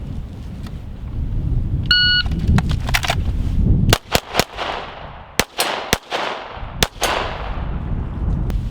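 A shot timer gives a short electronic beep, then a string of loud, crisp pistol shots rings out at targets on an outdoor range, spaced in quick pairs and singles with brief pauses.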